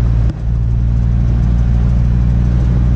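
Ford Mustang engine droning steadily from inside the car while driving, a low, even hum filling the cabin with a brief thump near the start and no talking.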